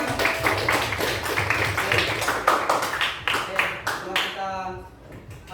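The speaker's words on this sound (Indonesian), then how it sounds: "Beri tepuk tangan untuk kita semuanya" A class of students in an Indonesian lesson on food chains gives a round of applause, with irregular, lively hand claps that taper off as a voice talks over them.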